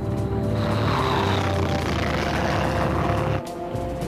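Military propeller aircraft engines drone in a steady, loud, continuous roar with a low throbbing hum, briefly dipping near the end as the sound cuts.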